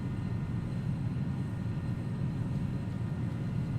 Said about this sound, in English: Let the airplane speed up.